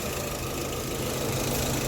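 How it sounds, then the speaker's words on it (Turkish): A Renault Megane 1 car engine just back from repair idles in a workshop with a dense, steady rumble and even mechanical clatter that stays close and constant throughout. "Ahmet Ustam, Rölantisini de çekeyim."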